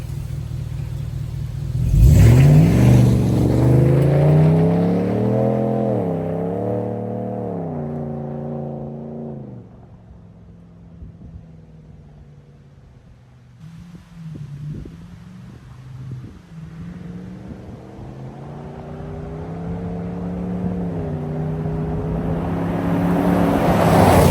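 A 2024 Ram 1500 pickup's exhaust, fitted with a B2 Fabrication resonator delete, roars as it accelerates through the gears, rising in pitch with each shift, then eases off before building again, loud and close.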